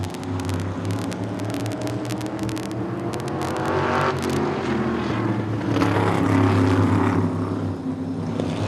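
Short track race cars roar around the oval in a super short track race, a loud, continuous engine drone that swells and fades as cars pass, with rattling crackles throughout.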